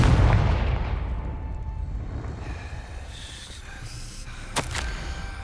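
A Confringo spell explodes in Hogwarts Legacy with a loud, deep blast up front that rumbles and fades, followed by faint magical shimmering and a sharp crack near the end.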